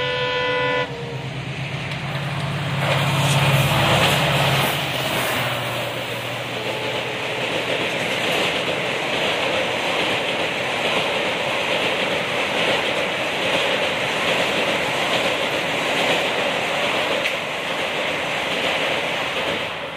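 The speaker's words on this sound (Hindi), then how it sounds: "और एक ट्रेन निकल चुकी है, अब दूसरी आ रही ये सामने से।" Trains passing on railway tracks, a steady loud rumble and rush that holds for the whole stretch, with a brief horn-like tone near the start.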